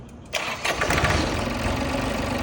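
An Iseki 16-horsepower tractor engine, its air filter freshly replaced, is started up close: a brief crank catches, then the engine settles into a loud, steady running rumble.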